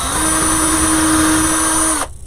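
A power drill whines at a steady high pitch for about two seconds while drilling into a bicycle wheel wreath on a countertop, then cuts off abruptly, leaving a faint rattle.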